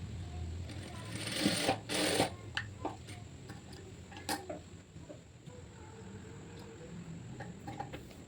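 A sewing machine stitches a seam in two brief, close bursts of whirring, followed by light ticks and handling clicks in a quiet room.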